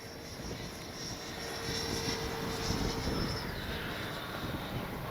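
A Freewing F9F Cougar RC jet makes a no-flap landing approach. Its steady, whining ducted-fan roar swells through the middle and then eases off slightly, with no talk.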